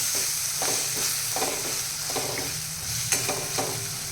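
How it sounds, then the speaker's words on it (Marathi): A spoon stirs ground coriander into a sprouted moth bean curry in a pan, producing soft scraping strokes at a slow, irregular rhythm over a steady low sizzle, close and alone without talk. "ती आपण इथे छान मिक्स करून घेऊया"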